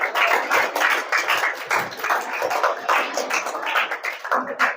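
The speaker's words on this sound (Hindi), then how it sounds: "आप सबसे गुजारिश है कि जोरदार ताली बजाकर इन" An audience at a school event claps for students in dense, continuous applause.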